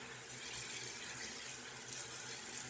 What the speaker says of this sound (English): I'm going to go ahead and splash water and then dab with my washcloth after I rinse it out.